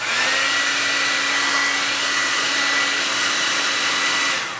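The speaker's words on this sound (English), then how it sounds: "if you took a hair dryer and stuck it on here" A hair dryer heating the front ring of a stuck barrel part blows steadily and loudly with a constant whirring hum, running without pause for several seconds before cutting off at the end.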